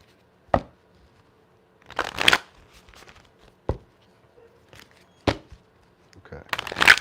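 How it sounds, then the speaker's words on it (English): Tarot cards being shuffled, with sharp isolated slaps and riffling bursts spaced irregularly over a quiet background, close and crisp. "we'll get over here and shuffle these, and we'll be ready. Ah, that was a beautiful shuffle"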